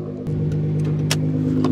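A Nissan GT-R R35 fitted with a straight-pipe Meisterschaft exhaust revs up close by, the engine note jumping sharply after a brief idle and holding a loud, raspy drone.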